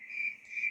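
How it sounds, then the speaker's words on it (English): Steady electronic cricket chirring from a Letsfit white noise machine, a continuous high buzzing trill that pulses gently, fairly quiet and with no voices over it. "So this one's crickets."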